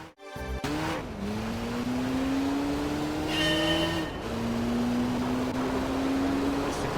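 Gran Turismo 3 race car engine held at a high, steady whine near the limiter, dipping briefly and climbing again, loud and continuous with no talk over it.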